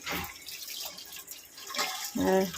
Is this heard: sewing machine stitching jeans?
no